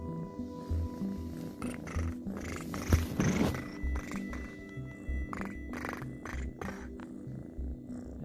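A ginger kitten purrs close to the microphone, a steady rumbling purr that continues throughout. There are faint small rustles and a brief louder shuffle in the middle.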